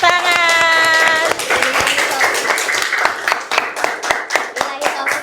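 A group of people clapping hands in a classroom teaching session, starting under a sustained tone, then a patter of individual claps with uneven rhythm, fairly close, with voices in the background.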